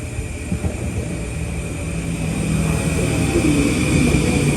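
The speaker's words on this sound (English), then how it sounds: "we're watching this M9 set coming in to Ronkonkoma now arriving" An LIRR M9 commuter train set pulls into Ronkonkoma station as a steady, broad rumble with a constant whine above it. The sound grows gradually louder as the train nears, with no voices.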